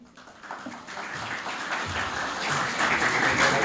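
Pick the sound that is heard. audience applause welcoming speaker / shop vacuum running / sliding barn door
audience applause welcoming speaker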